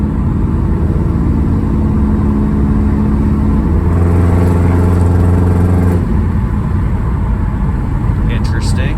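A turbocharged engine in a high-mileage 2005 Subaru accelerates, a steady loud drone with rising harmonics that swell in the middle of the run and then drop back, heard from inside the car.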